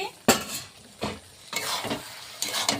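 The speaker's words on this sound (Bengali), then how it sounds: "একটু নাড়িয়ে নেব এই পোস্ত বাটাটা" A spoon stirs a mixed vegetable curry with poppy seed paste in a pot, producing a few distinct loud scraping strokes at irregular intervals, with a quieter sizzle in between.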